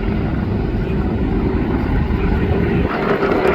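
A USMC CH-53E Super Stallion heavy-lift helicopter flying past at an outdoor airshow, a loud continuous roar of rotor and turbine engines with deep low rumble filling the whole stretch.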